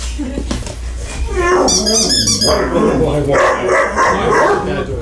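Several dogs bark and yip excitedly close by, overlapping with a person's raised voice in a lively indoor scene.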